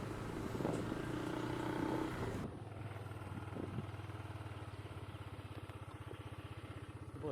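A motorcycle idles nearby with a steady low, even putter, preceded by a louder rushing passage before it settles into the idle; no one talks.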